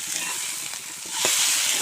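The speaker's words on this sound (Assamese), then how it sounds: "ইয়াতে মাছটো আকৌ ভাজি দিওঁ" Fish fries in a pan of hot oil, a continuous bright sizzle with a small spatter, swelling slightly louder toward the end, with no one speaking.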